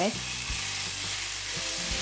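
Homemade curry paste frying in hot oil in a pot for a Thai spicy chicken stir-fry, a steady dense sizzle with a few soft stirring scrapes, close and continuous, no talking.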